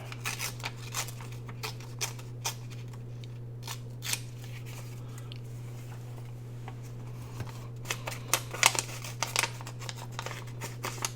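Paper ephemera is torn by hand in a quiet room, giving a series of short crisp rips and crinkles at close range, sparse at first and then clustered, over a low steady electrical hum.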